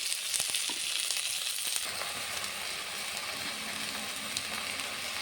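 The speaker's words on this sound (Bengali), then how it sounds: "মশলাটাকে ভালো করে কষাবো" Masala with ground coriander, turmeric and salt fries in a pan for egg curry, giving a steady, moderately close sizzle that runs the whole way with a few light stirring clicks.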